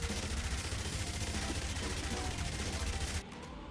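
Rapid gunfire rattles continuously in the zombie survival game Yet Another Zombie Survivors, a dense, steady stream of shots at close range that cuts off abruptly near the end, leaving quieter background game sound.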